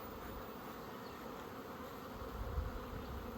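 Honey bees in an opened hive being smoked, a faint, steady buzzing drone that holds throughout with a slight swell near the end.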